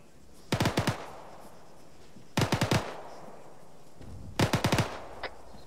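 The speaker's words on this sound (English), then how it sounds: "Got shots fired to the northeast." Gunfire in ArmA 3 comes in three separate bursts of four or five rapid, sharp shots, spaced about two seconds apart, heard at moderate distance over a steady background hiss.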